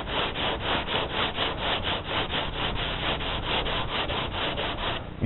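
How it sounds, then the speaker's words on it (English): A sanding block scrubs back and forth across primer with a guide coat on an auto body panel, fast, even rhythmic strokes, loud and close, with no voices. "I take my block and I start sanding"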